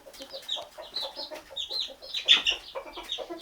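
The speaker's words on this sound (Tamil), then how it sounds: "எல்லாம் கருங்கோழியா வச்சிருக்கீங்க" Black chickens on a tea estate in Valparai, Tamil Nadu, cluck and chatter in a steady stream of short, overlapping calls, fairly close and moderately loud, with no talking.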